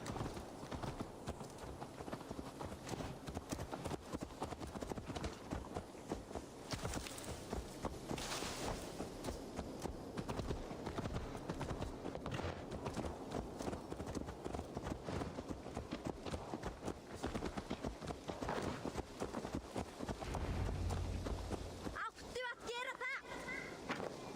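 A horse's hooves clip-clop in a steady walking rhythm in the Assassin's Creed Valhalla video game, the footfalls continuing throughout beneath game voices and ambient sound.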